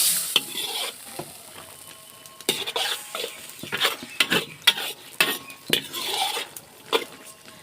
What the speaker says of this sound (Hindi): घी डाल के अच्छी तरह मैं इसको भून लेती हूँ।